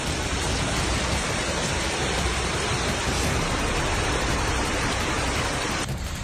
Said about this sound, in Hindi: भारी बारिश के बाद ये वीडियो सामने आया स्पेन के शहर मर्सिया से।